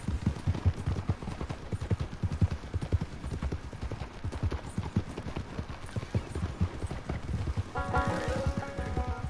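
Horse hooves clip-clop in a steady, rapid riding rhythm throughout, close and prominent, in the open-world game Red Dead Redemption 2, with a brief whinny-like tonal sound near the end.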